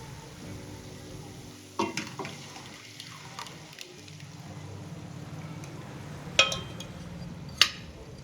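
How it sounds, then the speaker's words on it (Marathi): Tempering spices sauté in a kadai for dal, giving a steady low sizzle and stir with a few sharp clinks of a spoon against the pan; no talking. "हे बघा फोडणीचं सर्व साहित्य व्यवस्थित परतून झालेलं आहे"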